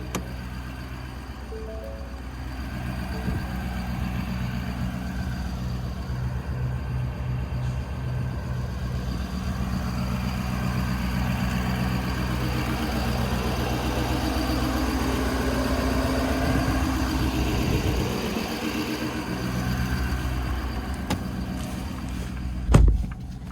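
A 2026 Ford F-250 King Ranch with a 6.7-litre high-output turbo diesel idles loudly and steadily, a deep continuous rumble close by, ending with a brief louder knock near the end.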